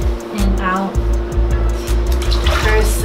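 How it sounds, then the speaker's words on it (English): Water runs and gurgles steadily in a slow-draining sink or tub after rinsing out hair, a continuous close splashing flow with faint voices under it. "There's the slow drain."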